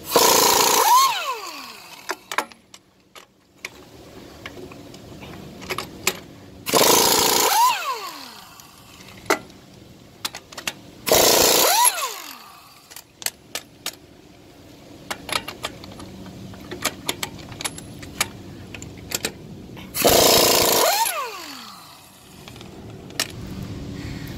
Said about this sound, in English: I'm using a uh, impact gun half inch with a socket of a uh, 1 inch and 1 16